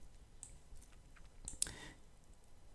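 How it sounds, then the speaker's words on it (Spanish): Computer mouse double click: two sharp, quiet clicks in quick succession at close range, against a near-silent room background with a few faint earlier ticks. "lo que vamos a hacer es un doble clic sobre el archivo protegido.zip"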